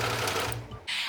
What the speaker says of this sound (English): I used my overlocker to stitch the new seams